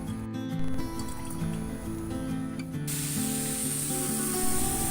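A sprayer mists a diluted liquid organic fertilizer mix onto plants, a continuous hiss that grows stronger and brighter partway through, close and steady with no talking.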